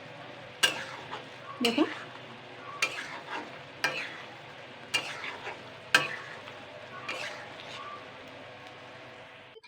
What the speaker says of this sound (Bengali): চিনি শিরাটা পুরোপুরিভাবে শুকিয়ে ফেলতে হবে এইভাবে নাড়তে নাড়তে।